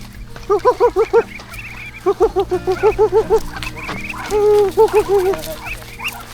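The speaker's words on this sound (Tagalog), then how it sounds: "ito pala yung mga pato" A large flock of ducks quacking together nearby, rapid bursts of honking calls repeating in runs over steady background noise, loud and dense.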